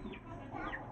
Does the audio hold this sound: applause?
no